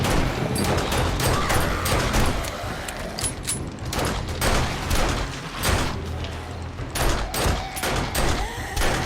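Rapid shotgun blasts in the zombie survival game 7 Days to Die, loud repeated gunfire with mechanical clatter between shots, dense and continuous for several seconds.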